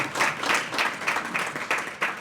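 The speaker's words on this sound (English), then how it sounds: "put a round of applause for them" Audience applause for speakers at a keynote event, a dense wash of many hands clapping at close range, swelling in uneven pulses throughout the short burst with no voices over it.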